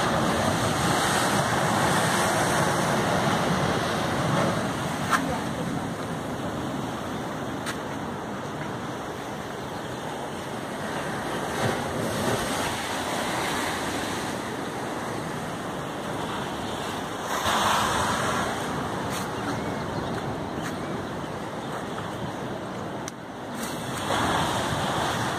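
Sea waves break and wash onto Itapoá beach in Santa Catarina, a continuous surf roar with periodic swells, joined by gusts of wind hitting the microphone, heard close and without talk.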